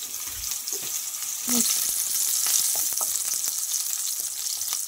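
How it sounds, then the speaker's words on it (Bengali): Onion and vegetables fry lightly in a pan for Indian-style masala pasta, a continuous hissing sizzle that swells slightly louder midway, with scattered taps and scrapes of a spatula stirring. "হালকা করে এটা একটু ভেজে নেব।"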